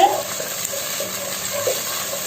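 A little water is splashed into a hot pan of garlic pigeon curry being cooked at home, giving a brief initial splash followed by a steady soft hiss and gentle bubbling.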